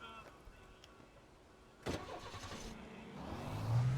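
A car engine in Alan Wake, set in Bright Falls, cranks and catches with a sudden burst, then rises into a steady, building rumble.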